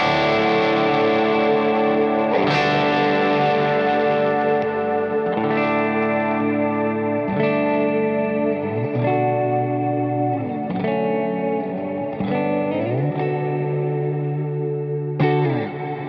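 Sustained electric guitar chords drenched in long, washy reverb set to a longer decay and deeper mix, each strum blooming and trailing into the next, loud and continuous with no talking.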